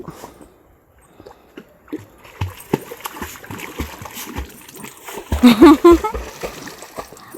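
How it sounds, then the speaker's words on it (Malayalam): A pet dog swims and splashes in water, with sporadic close splashes and sloshing that grow louder and busier toward the end. "ബാസ്ക്യൂ നീന്തുന്നു"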